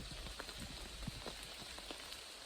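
Rain patters on the Appalachian Trail around a hiker, a soft steady hiss broken by scattered close drops tapping on gear and leaves, fairly quiet with no voices.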